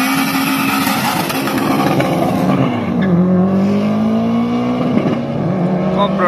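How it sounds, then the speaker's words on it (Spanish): Subaru Impreza drag racing car on a practice run at a drag strip, its engine droning loud and steady with a rising then dipping pitch, tire noise and a busy outdoor backdrop, with commentary over it. "Aquí vemos el Subaru Impreza, este está en una prueba libre, su segunda prueba libre"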